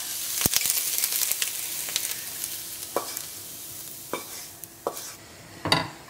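Liver for Goan beef sorpotel sizzles in masala while a spoon scrapes and stirs it, sharp knocks and scrapes landing every second or so over a soft, steady frying hiss.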